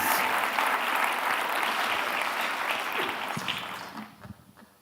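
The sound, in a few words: audience applause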